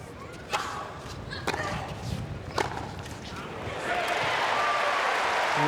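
Crowd applause at a US Open 2002 quarterfinal tennis match, cheering Monica Seles, swelling from scattered claps and thuds into steady, dense clapping in the last seconds.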